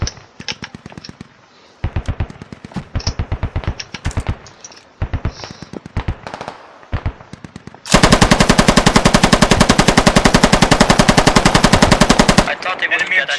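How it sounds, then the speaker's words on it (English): Video game Squad combat: scattered bursts of gunfire in short rhythmic volleys, then a long sustained, loud stretch of rapid automatic machine gun fire that cuts off abruptly near the end. "Someone is taking fire."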